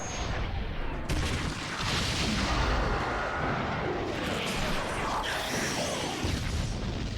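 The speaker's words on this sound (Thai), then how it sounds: "ระเบิด ระเบิด" Explosions in the video game Naruto Shippuden Ultimate Ninja Storm 4 make dense, loud, booming blasts that run one into another with almost no pause, like a barrage of artillery fire.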